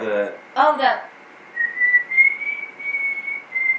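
Someone whistles the Hunger Games tune, slow and wavering with long held notes, after a brief vocal sound, close and fairly loud.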